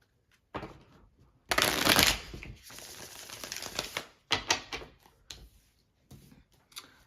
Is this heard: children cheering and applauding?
no